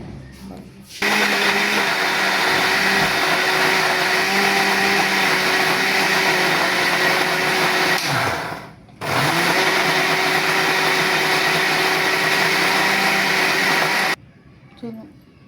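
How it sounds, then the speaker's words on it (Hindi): An electric mixer grinder whirs loud and steady as it grinds green chili, tomato, ginger and garlic into a paste, with a brief dip in the motor's drone partway through before it resumes and then cuts off. "इसके अंदर ये मैंने ग्राइंड कर लिया था, हरी मिर्च, टमाटर, अदरक, लहसुन, सब इसका पेस्ट"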